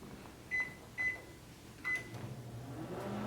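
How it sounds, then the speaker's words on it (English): Microwave oven heating a bar of Ivory soap, three short bright beeps from the keypad followed by the low steady hum of the oven running, fairly quiet and close. "So let's put the microwave on again"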